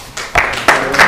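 Audience claps after a speech on political communication; a few loud, close individual hand claps in a short irregular burst, no talk during it.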